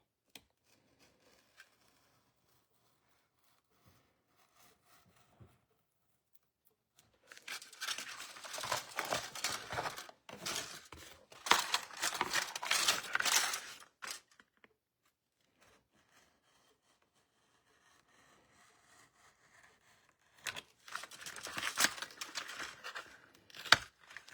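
Scissors cut out a paper transfer for a handmade resin ornament, giving bursts of crisp snipping and rustling paper close by, separated by quiet pauses.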